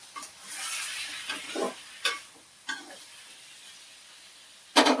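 Chicken pieces stirred into onions frying in a pot for spicy chicken biryani, with a steady sizzle broken by several sharp scraping stirs and a louder clatter near the end.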